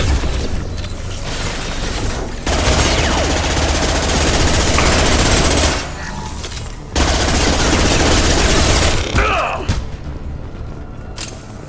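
Heavy gunfire in the Mass Effect 2 video game, loud rapid bursts and booming impacts in sustained waves, broken by two short quieter gaps before the barrage resumes at full force.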